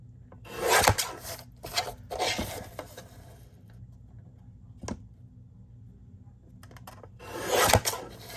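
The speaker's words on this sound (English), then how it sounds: "Just going to trim a little bit off of each side of this." Paper edges trimmed for a Halloween journal: three or four short rasping cuts in separate bursts, close and fairly loud, with a faint tap midway and quiet pauses between, no talking.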